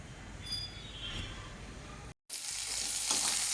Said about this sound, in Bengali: কড়াইয়ের মধ্যে পাঁচ ফোড়ন দিয়ে একটু পেঁয়াজ দিয়ে দিলাম